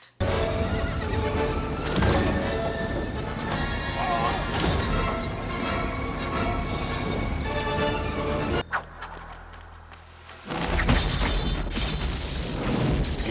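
A horse in a Zorro movie scene neighs and whinnies loudly amid busy hoof clatter and crashing action sounds. The dense mix drops out briefly near the end, then returns.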